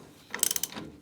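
A ratchet tightens a refurbished bolt into the shock absorber of an MEV Exocet kit car: a close, quick burst of several crisp mechanical clicks, with no talk.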